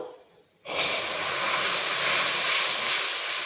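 Thickened, reduced milk poured into hot caramel sets off a sudden loud, sustained hiss that starts after a short quiet moment and keeps sizzling steadily to the end.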